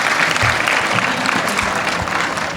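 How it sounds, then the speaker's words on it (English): A conference audience claps in a sustained round of applause, a dense even wash of many hands with no speech over it. "So I'd like you to join me in a round of applause for Cambridge and the employees."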